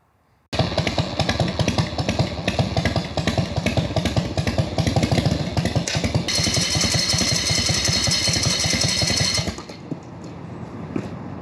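A jockey-shift foot-clutch motorcycle with no front brake, in first gear, its engine running loud and close with a steady pulsing chug, then cutting out abruptly as the foot slips off the clutch pedal and the bike lurches.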